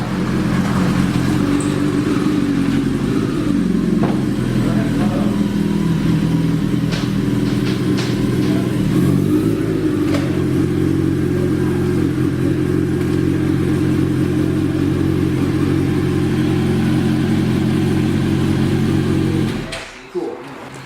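A Honda CBR1000RR sport bike on a dyno at a performance shop holds a loud, sustained high-rev engine drone for nearly twenty seconds, then cuts off abruptly at the end.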